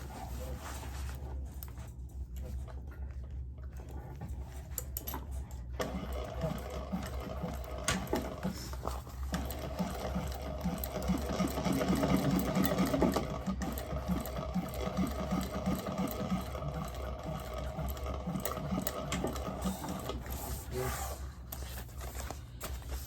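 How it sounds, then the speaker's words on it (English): A domestic sewing machine stitches fabric in a continuous mechanical whir with rapid needle chatter, running steadily and close by throughout with no talking. "And I'm going to sew from this side."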